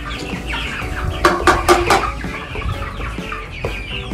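Young chickens cluck and peep in a brooder, loud and close, with a burst of several sharp calls in the middle amid ongoing chatter from the flock.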